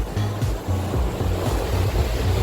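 A sailing boat motors along under engine with the genoa set, giving a steady low engine drone with rhythmic pulses under constant wind and water wash.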